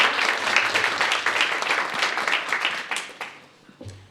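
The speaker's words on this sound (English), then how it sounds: "we want to give a round of applause to Kathy" An audience at a Black History Month celebration applauds for Kathy, a lively round of clapping that gradually thins and fades over about four seconds.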